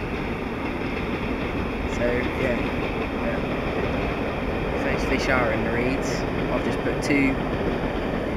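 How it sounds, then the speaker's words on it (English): A train passes near a lake, heard as a steady, broad rumble throughout while someone talks over it about fishing. "Sorry if there's a train noise, train's going past."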